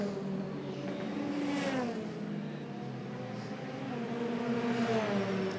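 A Euroformula Open race car on the Pau street circuit during 2022 qualifying, warming its tyres, makes a steady engine whine that rises and falls in pitch as it shifts and runs at mid-distance without talk.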